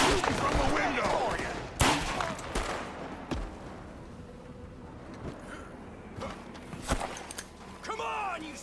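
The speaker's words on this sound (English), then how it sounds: "Someone shooting from the window" Gunfire in the Red Dead Redemption 2 video game, someone shooting from a window: several sharp shots scattered irregularly across the scene amid footsteps and game ambience, with voices speaking at times.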